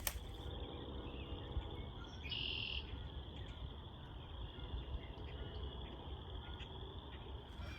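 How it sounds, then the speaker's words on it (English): A red-winged blackbird calls in a marshy nature park, a sustained buzzy trill with a brief louder burst, heard at a moderate distance over steady insect drone and outdoor ambience. "there's a red-winged blackbird ahead of me,"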